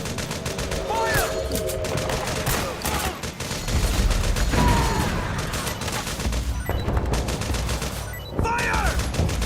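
Gunfire in the video game Metal Gear Solid 4: Guns of the Patriots, with continuous rapid shots and bursts from several weapons, loud and dense, mixed with shouting voices and short whizzing sounds.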